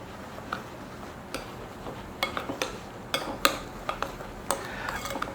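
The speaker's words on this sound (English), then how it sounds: "Get all my coconut and my sugar mixed with the egg whites." A spoon stirs shredded coconut and sugar into egg whites in a bowl for macaroons, giving soft scraping with irregular light clinks and taps against the bowl, close and fairly quiet.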